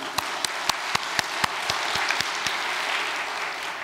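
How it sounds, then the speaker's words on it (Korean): A church congregation applauds in thanks: sharp clapping in unison beats out a quick, even rhythm at first, then spreads into dense, continuous applause filling the room. "정말 감사의 박수 올리면 좋겠습니다"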